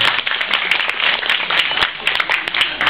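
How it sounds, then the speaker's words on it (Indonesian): An audience gives steady applause at a pesantren gathering welcoming university visitors, with dense overlapping handclaps sustained throughout and loud, close and continuous. "Tepuk tangan kita semua."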